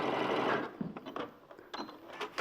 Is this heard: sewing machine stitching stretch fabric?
yes